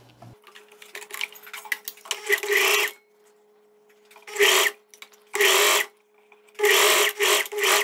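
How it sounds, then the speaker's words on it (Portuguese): A sewing machine stitches a dart in a loose viscose dress, first as a rapid ticking run, then in several loud whirring bursts separated by short pauses, close and clear with no voices. "E agora eu vou passar a costura."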